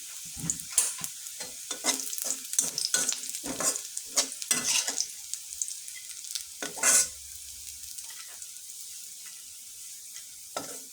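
Garlic and onions fry in oil in a pan while a spatula scrapes and stirs in quick uneven strokes over a crackling sizzle, then the stirring thins out to a quiet hiss with an occasional clatter.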